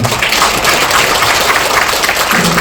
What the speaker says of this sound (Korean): 다시 한번 박수해 주십시오